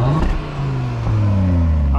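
An Audi RS3 8Y engine revs, its deep droning tone sliding up and down in pitch, loud and close throughout.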